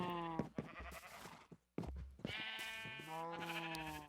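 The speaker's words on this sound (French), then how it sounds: "pour l'instant, j'ai seulement des moutons, puis des vaches" Minecraft sheep bleat in a farm pen in the video game, several wavering calls in sequence, clear and fairly close, with one short silent gap between them and no talk.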